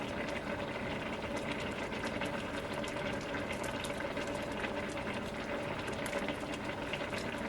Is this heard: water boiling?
yes